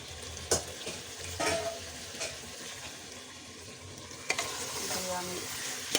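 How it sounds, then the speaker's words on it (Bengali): Mutton and pointed gourd sizzle in a frying pan while being stirred, with repeated scraping strokes and a steady hiss of hot oil throughout. "আমি ভালো মতো আবার একটু নাড়াচাড়া করছি, মাংস আর পটলগুলো মিশিয়ে নিচ্ছি।"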